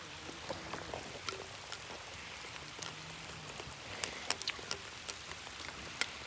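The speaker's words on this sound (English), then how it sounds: "It's really starting to rain right now." Steady rain pattering near a river during coho fishing, with a dense wash of drops and scattered sharper splats on the surface, close and continuous, no voices.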